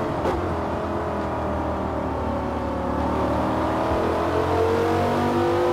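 A race car engine in Forza Motorsport drones and revs steadily at high pitch, a continuous loud whine with rising gear tones and no break, heard close as if from inside the car.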